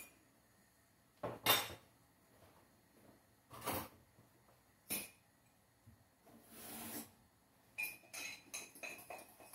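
A spoon stirs corn porridge in a metal pot, with a few separate clinks and scrapes against the pot spread over several seconds and a quicker run of light taps near the end. No one speaks.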